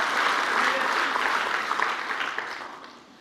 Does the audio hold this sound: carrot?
no